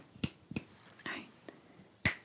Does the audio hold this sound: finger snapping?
yes